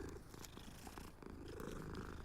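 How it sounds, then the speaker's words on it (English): A video-game cat purrs softly and continuously as it is petted, a low, steady rumble, quiet and alone. "Ooh, there's another kitty. I'm gonna pet them all."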